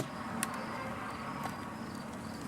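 Honeybees drone around an opened hive during a late-May inspection of new hives, a steady buzzing hum filling the air, with a couple of brief sharper clicks and no speech.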